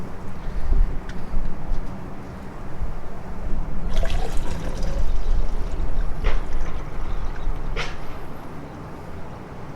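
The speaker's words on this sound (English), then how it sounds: "start adding water to the radiator" Water is poured into the radiator of a 1937 Ford Slantback, a continuous close gurgling and splashing that runs for about ten seconds, with a few faint clinks over the steady flow.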